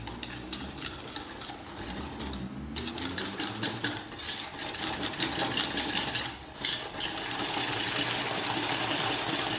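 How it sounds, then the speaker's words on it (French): Egg yolks, sugar and custard powder being stirred briskly in a bowl, a steady scraping whisk against the sides that keeps going close up with only brief pauses, and no voices. "Je mélange bien."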